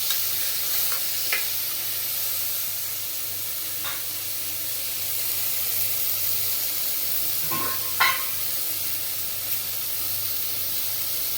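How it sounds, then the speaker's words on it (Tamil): Tomatoes, onions and green chillies fry in a pan for idli kurma, giving a steady soft sizzle with a few sharp spoon-scrape clicks from stirring, close by and with no talk. "தக்காளி வெங்காயம் நல்லா வதங்கணும்."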